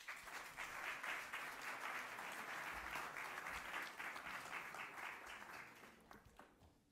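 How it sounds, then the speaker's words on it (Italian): Applause from an audience at a literary prize ceremony, a full, steady patter of many hands that carries for several seconds before thinning and fading out at the end. "Io vi ringrazio e un applauso."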